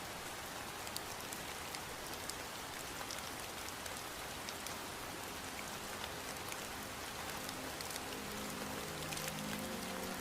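Heavy rain pours steadily and loudly at a crossroads, a dense continuous hiss of drops striking surfaces with no voices, and a faint tonal hum creeps in toward the end.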